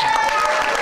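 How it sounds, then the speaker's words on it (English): Awards ceremony audience applauding a film festival honoree, a dense, steady wash of clapping that fills the short stretch at close range, with a voice faintly running underneath. "Another round of applause for Denise."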